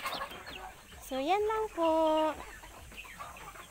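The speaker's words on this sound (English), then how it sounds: "Yung maliliit kong chicken yan." Small young chickens in a backyard batch give soft clucks and a couple of rising, drawn-out peeping calls, close by, with someone talking briefly at the start.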